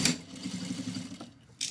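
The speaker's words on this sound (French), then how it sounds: "Et on vient coudre à 5 mm." A sewing machine stitching two layers of fabric placed wrong sides together with a 5 mm seam, a steady close whirring hum with a light rhythmic needle pulse that stops near the end.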